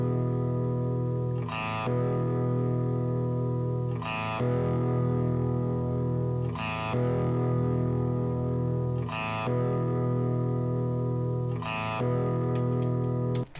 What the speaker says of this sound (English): I'll just loop the very end of the chord so you can really hear the amount of distortion